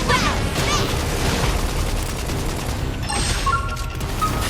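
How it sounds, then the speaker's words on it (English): A flame grenade goes off in the Wii U game Xenoblade Chronicles X, with booming, crackling bursts layered over continuous battle noise, followed by chiming game effects near the end. "Flame grenade!"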